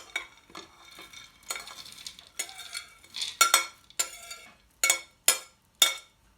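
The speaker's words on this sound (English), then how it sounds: "Okay, so we're going to just scrape it in the bowl, the nuts" Nuts are scraped from a plate into a large mixing bowl in a series of rustling, scratchy strokes, ending in three sharp, distinct scrapes with faint clinks, no talk.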